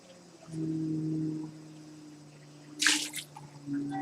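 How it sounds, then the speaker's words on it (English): Water drips into an already full drip bucket in a studio, a single wet splash standing out briefly over a low steady hum and quiet background noise. "there's a drip sound. It doesn't sound quite right."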